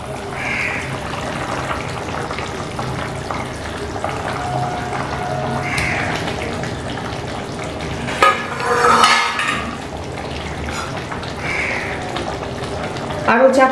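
Fried hilsa pieces go one by one into a simmering curry pan with ridge gourd, giving a steady soft sizzle and bubbling with occasional utensil clinks and a louder splash, close by.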